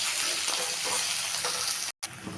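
Chopped tomato frying with ginger and garlic in a pan for a fish-head curry, a steady close sizzle with faint stirring scrapes and a brief cut near the end.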